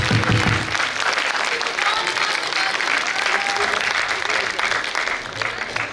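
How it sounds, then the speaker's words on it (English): A large Toastmasters district audience at an all-clubs meeting gives a sustained round of applause: steady, dense clapping that fills the whole stretch and tapers slightly near the end. "big round of applause"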